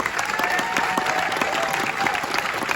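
Audience at a panel Q&A for The Morning Show applauding steadily, dense clapping that stays loud and even throughout with no pauses.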